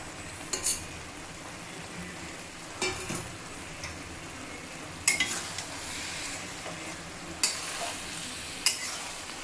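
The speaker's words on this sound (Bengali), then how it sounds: "এবার দেখো চিংড়ি মাছগুলো দিয়ে দেওয়া হচ্ছে।" Shrimp sizzling steadily in a hot pan while being stirred for a Bengali recipe, with a constant close frying hiss and occasional sharp scrapes and clinks of a utensil against the pan.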